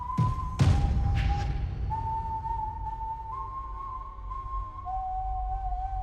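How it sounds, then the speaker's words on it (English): A lone, eerie whistled tune from Death, the wolf in Puss in Boots 2, drifts in long held notes over low rumbling ambience after a couple of sharp hits at the start. "he makes that creepy whistling sound"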